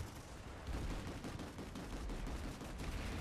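Rapid automatic gunfire from the online shooter Planetside 2, a dense, continuous, faint volley with no pauses and no talk.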